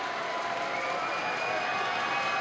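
A basketball crowd at a boys' provincial championship game roars and cheers after made free throws, a dense steady wash of voices and applause filling the gym at a constant level throughout.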